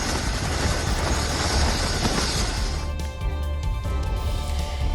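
Indian Air Force Chinook and state helicopters fly over a flood rescue in Uttarakhand, a steady loud rotor roar filling the whole stretch with a broad rushing wash and no talk.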